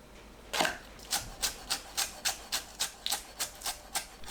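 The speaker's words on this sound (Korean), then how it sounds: "파를 5cm 길이로 채 썰어줍니다." Knife slicing green onion into 5 cm strips on a cutting board, a quick, even series of about a dozen close, crisp chopping strokes, no talking.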